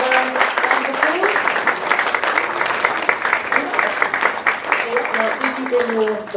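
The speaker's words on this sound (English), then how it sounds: "Give her a round of applause." A crowd applauds a Workers' Party candidate for Stratford and Bow, steady dense clapping running several seconds while a voice speaks over it through a PA.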